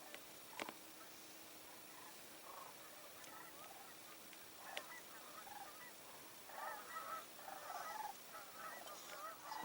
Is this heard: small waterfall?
no